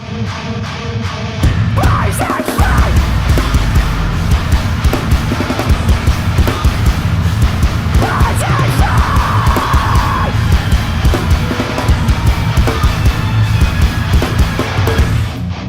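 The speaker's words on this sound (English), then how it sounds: "this song absolutely destroys the listener, both with aggressive and anxiety-inducing guitars, but also with relentlessly angry vocals." Metal song with aggressive, anxiety-inducing guitars and relentlessly angry screamed vocals, loud, dense and driving with heavy pounding drums and harsh yelled lines throughout.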